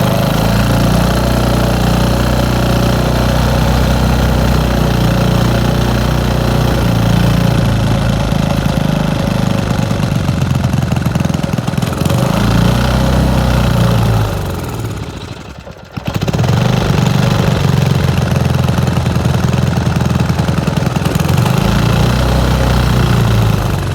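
A 1976 3 hp Briggs and Stratton small engine is cranked and tries to start, giving a loud, continuous rough mechanical chugging that briefly drops away near the middle before resuming at full strength.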